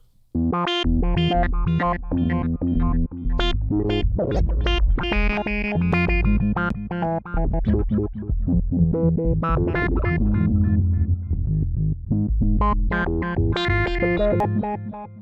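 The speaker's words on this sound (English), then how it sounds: "Some digital echo because, you know, it's the 90s." Cherry Audio Yellowjacket software synth playing a dense, loud melodic line through a digital echo effect in a 90s style, with repeating notes trailing into one another continuously throughout.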